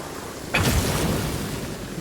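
A single thunderclap cracks during a storm in Genshin Impact, then fades into a long, low rumble with no voices.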